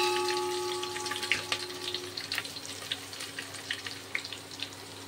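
Food sizzles and fries in a pan with a steady crackling hiss, punctuated by clinks of a utensil stirring, fairly close and without talk.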